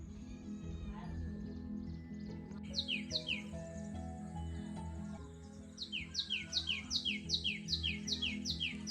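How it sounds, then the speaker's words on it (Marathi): Sparrows chirp in quick bright bursts over a steady low hum, with repeated rapid chirping runs, fairly close and clear. "मस्त चिमण्यांचा आवाज येत आहे"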